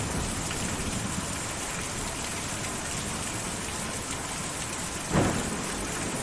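Heavy rain pours down steadily as a dense, constant hiss during a thunderstorm in the video game Kentucky Route Zero, with one short crack of thunder near the end.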